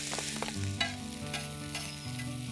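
Chopped onions and garlic fry in regular vegetable oil on a tawa, a soft continuous sizzle with stirring, partly under background music.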